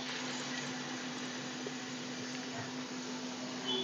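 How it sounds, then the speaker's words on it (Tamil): Mixer grinder blending two tomatoes, a steady even whirring drone that holds constant throughout, moderately quiet and with no voices. "அம்மா, 2 தக்காளி அரைச்சி விட்றேன்."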